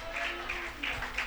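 Clapping from a church congregation during a service, in rhythmic broadband bursts, moderately loud and steady across the whole moment with no clear speech on top.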